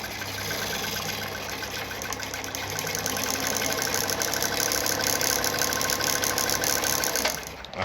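A Kayser model 138 automatic sewing machine runs steadily, giving a continuous close mechanical whir with a fast repetitive chatter that holds for several seconds, with no talking.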